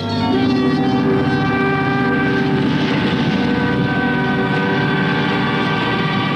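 Loud, continuous rumble of a passing train with a sustained tonal drone, steady throughout with no break.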